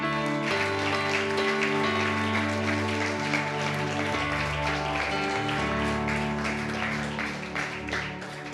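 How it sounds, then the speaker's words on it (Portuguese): A church congregation applauds loudly at a family-themed worship service, dense sustained clapping filling the room with music or a held organ-like tone running underneath the whole time. "Você pode aplaudir isso bem forte?"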